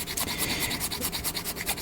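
A plastic part from an HG Danazine Gundam model kit, being customized into Godzilla, is sanded by hand with light pressure, giving close, rhythmic scratchy strokes, roughly a dozen quick back-and-forth rubs with no talking.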